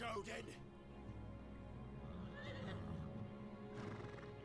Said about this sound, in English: That horse is badass.